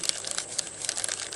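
A paper bag crinkles and crumples as it is rolled up by hand, giving a close, steady papery rustle with small crisp crackles throughout and no talking.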